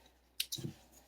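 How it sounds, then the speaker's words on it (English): Scissors give a couple of quick, quiet snips as they trim loose threads from a sewn fabric toiletry roll, a brief pair of clicks in a quiet room. "now all that is left to do is trim all these threads off"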